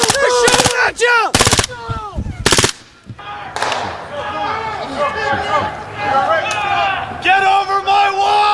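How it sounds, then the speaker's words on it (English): Bursts of automatic gunfire aimed at soldiers around a military outpost, loud sharp volleys at first, then shouting men calling out urgently over continuing commotion. "They're shooting at you!"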